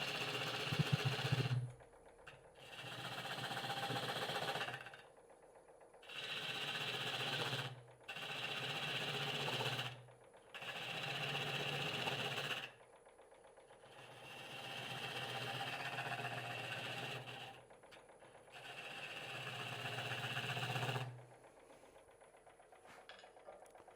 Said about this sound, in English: since I have my spindle gouge in my hand, I'm going to cut in where this foot is going to be